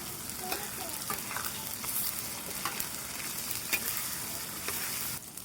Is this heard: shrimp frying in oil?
yes